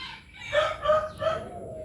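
A rooster crows close by at a backyard gamefowl breeding yard in a rural barangay, one clear cock-a-doodle-doo call with no voices over it.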